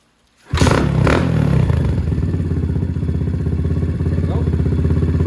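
Dirt bike kick-started after brief silence, the engine catching with a loud roar and settling into a steady, clattering idle close by.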